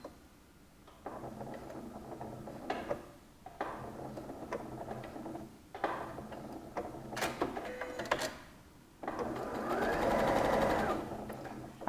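A sewing machine stitching a lined sleeveless shoulder seam, close and loud, running in several steady whirring bursts separated by short pauses, with a longer continuous run at the end.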